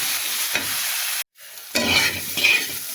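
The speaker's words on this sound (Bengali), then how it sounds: "এবার মরিচ দিয়ে দিলাম সুন্দর করে ভেজে নেব" Chili fries with figs in a hot pan, giving a bright sizzling hiss with stirring scrapes. It cuts to silence for a moment, then returns louder with crackling spatters.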